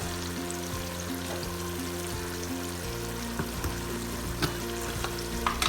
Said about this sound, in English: And I'll continue frying everything.